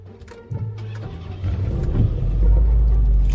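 A car engine cranks and catches, then revs up with a rising, loud low roar that builds to a sustained drone; no talk during the start.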